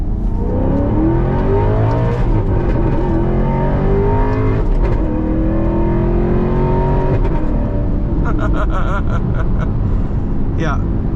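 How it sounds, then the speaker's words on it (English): A 2009 Alfa Romeo 8C Spider Competizione engine, X-pipe exhaust, revving loudly and steadily up close with rising and falling pitch sweeps, under a person talking. "All right, and you can hear this car."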